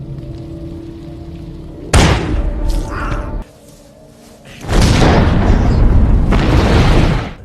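A thriller film's explosion effect: a sudden loud boom hits, followed by rumbling debris, a short lull, then a second heavy, sustained blast roar, close and dominating with no talk.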